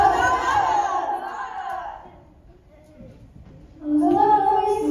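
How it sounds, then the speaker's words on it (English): Sixth-grade children in a school Easter puppet performance shout loudly as a crowd, with a quieter pause between two bursts of group voices. "They heard these people shouting loud hosannas everywhere."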